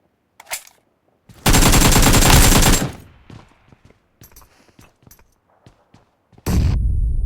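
Gunfire in PUBG Mobile, with a long, loud burst of rapid automatic fire, scattered lighter shots and clicks in between, then another heavy burst starting at the end.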